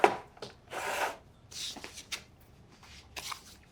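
A dough scraper works through a 1.2 kilo batch of sourdough as it is divided into portions, making several short scraping and rubbing strokes with pauses between them, close up and fairly quiet with no talk.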